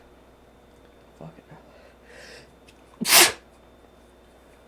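A single loud, close sneeze bursts out after a few quieter breaths and rustles, with a person speaking briefly around it.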